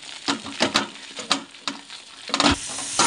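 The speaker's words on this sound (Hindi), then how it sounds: "थिक होने तक इसको अच्छे से मिक्स कर लेंगे।" A spoon stirring mawa (khoya) in a hot pan as it thickens, a few rhythmic scraping strokes over a soft sizzle, close and moderately loud.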